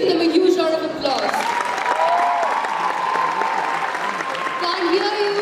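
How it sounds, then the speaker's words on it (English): An audience at a junior debate competition claps after power-packed performances, with a presenter's amplified voice and musical tones carrying over the steady crowd applause throughout. "Please give them a huge round of applause."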